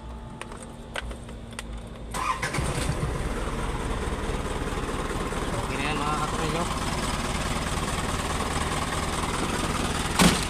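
A car engine turns over and settles into a steady idle rumble that continues throughout, with someone speaking briefly over it.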